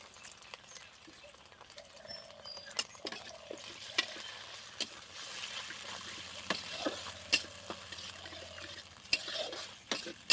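Chopped garlic, ginger and chili fry with tomato and red chili sauce for chicken 65, a quiet sizzle under repeated clinks and scrapes of a spoon stirring the pan.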